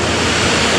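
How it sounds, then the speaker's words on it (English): Steady, dense roar of falling water filling the air, broadband and constant with no voices, a waterfall heard close by in Kurobe Gorge, Japan. "What a gorge. What a waterfall."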